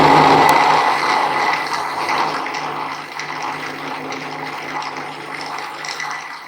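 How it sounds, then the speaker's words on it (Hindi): A countertop blender grinds peaches with a glass of water for juice, a steady whirring grind running the whole stretch at moderate loudness, slightly easing after the start with no talking. "अब हम इसको ग्राइंड कर लेंगे।"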